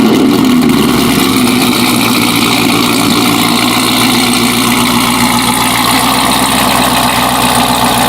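A Chevrolet Camaro ZL1 fitted with an aftermarket exhaust idles with a loud, steady, deep burble that runs unbroken for the whole stretch, close up and with no voices over it.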